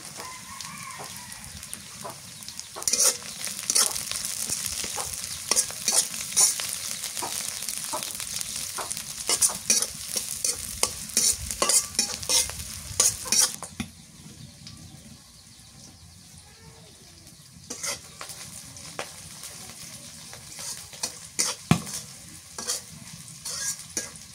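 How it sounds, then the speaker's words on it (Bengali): Onions and green chilies fry in a pan while being stirred, giving loud continuous sizzling and scraping for about fourteen seconds before settling to a quieter sizzle with occasional clinks. "পেঁয়াজ আর মরিচটা লাল লাল করে ভেজে নিলাম"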